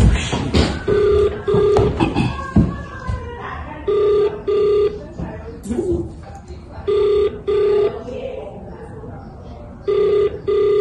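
A phone rings with an incoming call in repeated double bursts of electronic tones, loud and close, spaced evenly across the stretch while people talk and exclaim between the rings.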